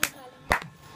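Two crisp finger snaps, one at the very start and another half a second later, short and close, with quiet room tone between them.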